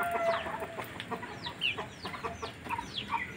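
Pakoi and Georgian plucker crossbreed chickens clucking at close range, with repeated short rising calls and chatter from several birds over a steady farmyard background, and no talk.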